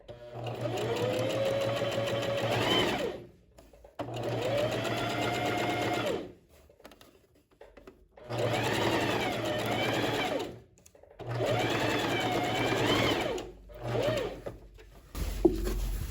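A sewing machine runs a straight topstitched seam along the centre back of a lined tailored waistcoat, in four sustained bursts of steady motor whir separated by short pauses, close and clear with no talk.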